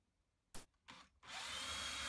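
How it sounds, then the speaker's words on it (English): A power drill bores pilot holes into wood for a birdhouse, with two short bursts followed by a sustained, close, high-pitched whine. "I drill some pilot holes."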